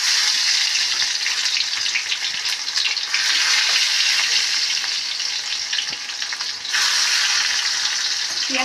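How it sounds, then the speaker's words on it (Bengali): Onions and dried red chillies fry in oil with boiled greens, a loud continuous close sizzle with faint stirring ticks, briefly dipping before surging again. "পেঁয়াজটা একটু ভাজা ভাজা হোক।"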